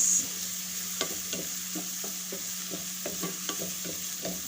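Shrimp and onion sautéing in oil for a shrimp dish with fresh tomato sauce, a constant close sizzle broken by regular spoon scrapes and taps roughly every half second.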